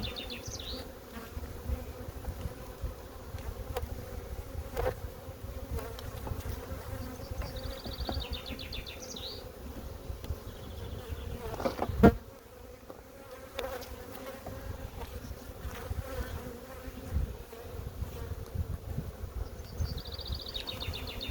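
Aggressive honeybees at a hive buzz steadily nearby, a busy droning hum that swells and fades, with a few faint bird chirps in the background.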